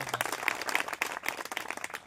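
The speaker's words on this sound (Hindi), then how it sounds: "एक बार तालियां हो जाए जोरदार।" An audience at an education centre award ceremony applauds with dense, steady clapping, close and continuous, with no talk over it.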